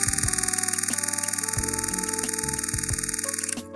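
A Sony α9 camera firing its shutter in a continuous burst, a rapid, evenly spaced train of sharp clicks running steadily for several seconds over a constant high electronic whine, then stopping abruptly.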